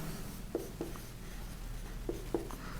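Chalk taps and scratches on a board during a maths lesson, several short strokes in two pairs over a low room hum, close and fairly faint.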